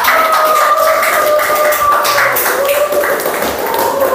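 Students in a classroom give a round of applause for a classmate, steady and continuous with dense overlapping claps filling the whole stretch, with a tonal hum running underneath.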